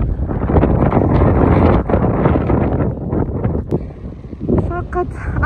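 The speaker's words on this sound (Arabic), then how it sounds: "لأن الرياح شديدة تهب" Strong autumn wind blows into a valley, loud rumbling gusts buffeting the microphone and surging then easing, with a voice speaking briefly near the end.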